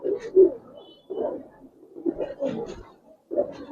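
An old-breed green-necked pigeon cooing nearby, a series of four or five low, throaty coos with short pauses between them.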